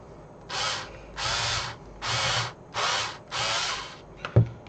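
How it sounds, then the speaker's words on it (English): A very sharp hand drill bores into a plastic model part in five rhythmic grinding bursts with short pauses between them, close and clear, then ends with a small knock. "It does help having a sharp drill, a very sharp drill."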